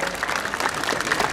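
Audience applause for the Białystok municipal brass band and majorettes at an outdoor concert, a steady dense clapping that holds at an even level through the whole short stretch, with no talk over it.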